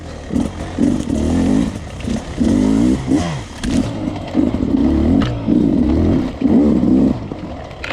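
A 2020 Beta 300RR Race Edition dirt bike engine rises and falls in repeated short throttle bursts during an off-road ride, with clatter and scraping between the revs.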